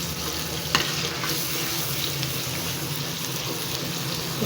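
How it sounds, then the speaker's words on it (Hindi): Tomatoes fry and get stirred in a karahi for Chicken Shinwari karahi, producing a steady close sizzle with occasional scraping of the spoon against the pan and a single sharper knock, no voices. "इसको भी अच्छी तरह भून लेते हैं। टमाटरों को भूनते हुए मुझे 6-7 मिनट हो चुके हैं।"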